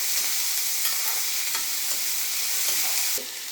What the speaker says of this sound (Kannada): ಒಂದು ಈರುಳ್ಳಿ ಹಾಕಿರೋದು, ಅದು ಹುರ್ಕೋಬೇಕು ನೀಟಾಗಿ.